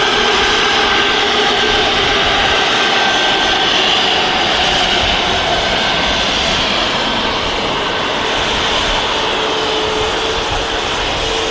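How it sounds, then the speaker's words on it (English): Ryanair Boeing 737 MAX 8200 jet moving at Manchester Airport, a steady loud jet engine roar and whine that holds evenly throughout, close and without talk. "Ryanair starting to move. 737 Max, 8200, get it logged."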